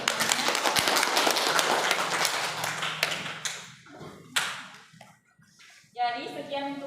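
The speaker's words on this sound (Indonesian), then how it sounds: "Silakan berikan aplaus kepada teman-temannya" A classroom of students applauding their classmates, a dense burst of clapping that thins out into scattered claps and fades, followed by a teacher's voice speaking.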